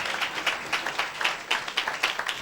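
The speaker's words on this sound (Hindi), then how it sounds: "जरा तालियां बजाओ और उसको महिमा दो।" A church congregation claps together in a steady, fairly quick rhythm, a dense patter of many hands with regular loud accents, heard from within the room.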